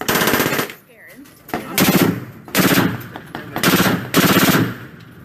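A belt-fed MCR machine gun fires at an outdoor range in several loud, close bursts of rapid shots, separated by short pauses, with a brief quiet stretch near the start.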